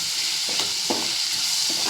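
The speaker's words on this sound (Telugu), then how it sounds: "నువ్వులు వేసేస్తున్నాను. జస్ట్ ఇది కొంచెం అలా వేపుకుంటే చాలండి." Sesame seeds roasting in a hot pan give a continuous close sizzle and crackle, with a few soft stirring scrapes.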